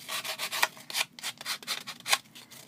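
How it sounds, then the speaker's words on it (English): Sandpaper rubbing back and forth along the edges of a layered bookmark, a steady series of close, scratchy strokes roughly every half second, with no talking. "I'm going to grab some sandpaper, and I think I want to rough up the edges just a bit."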